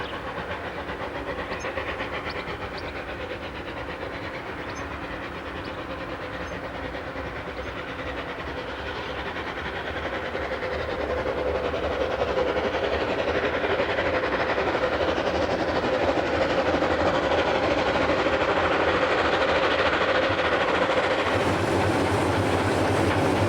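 A Rhaetian Railway G 4/5 locomotive running on the Engadine line, heard as a steady, loud rolling rumble and clatter of wheels on track that grows slightly heavier midway and continues throughout.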